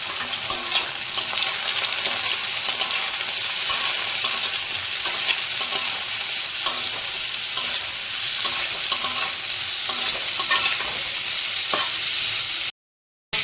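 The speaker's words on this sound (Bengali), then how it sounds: "আমি একটুখানি মাশরুমটাকে ভেজে নিই হালকা করে।" Mushrooms lightly frying in a pan for mushroom masala crackle and sizzle nonstop up close, with frequent scraping stirs and spoon knocks scattered through, ending in a brief silence.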